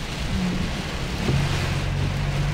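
A constant, dense roar of heavy rain and blustering wind fills the air on a road trip in Infanta, Quezon, with a low hum running steadily underneath.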